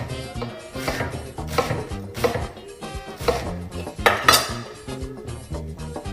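A knife slices through half a head of cabbage on a cutting board, making repeated crisp chopping strokes in an uneven rhythm, close and fairly loud, with no talk.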